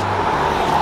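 A car passes close by on a downtown street in New Iberia, Louisiana, its steady engine and tire roar loud and continuous through the moment.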